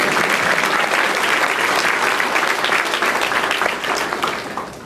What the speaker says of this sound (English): By the way, that applause was for Dr. Rios.